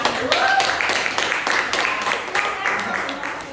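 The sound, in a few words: audience applause welcoming group 1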